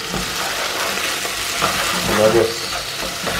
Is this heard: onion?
yes